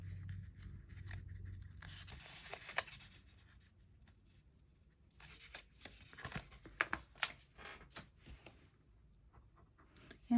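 A pen scratches across paper on a planner page, with steady scribbling strokes at first and then a string of sharper scrapes and taps, close and quiet with no voices.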